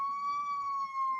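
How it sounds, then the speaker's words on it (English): A steady, sustained fire truck siren tone holds throughout, loud and unbroken with rich overtones, and no talking. "Is that a fire truck or an ambulance? That's a fire truck."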